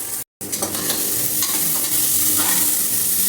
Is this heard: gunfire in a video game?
no